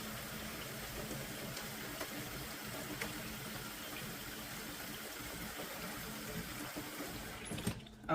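Hot water pours into a bucket in a steady, low, continuous gush that holds even for several seconds, then stops abruptly with a clunk at the end.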